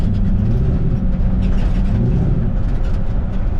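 A 1960 Ford F100 custom truck fitted with a 5-liter Mustang engine runs loud and close, a steady deep rumble with no talk over it.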